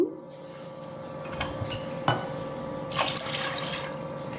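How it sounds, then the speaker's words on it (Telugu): Water is poured into a pressure cooker vessel holding washed toor dal, a close, moderate splashing stream with a few brief clinks and splashes standing out, and no voices. "2 గ్లాసులు వాటర్ పోద్దాము."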